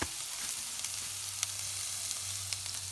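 Chopped onion and celery sizzle in hot fat in a pan for shepherd's pie, a close, steady crackling hiss with a few soft pops and no voices.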